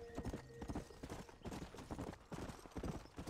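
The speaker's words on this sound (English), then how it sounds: "Horsey." A horse in the Red Dead Redemption video game trots with loud, rapid clip-clopping hooves, with a short whinny early on and a dense, busy rhythm throughout, without speech.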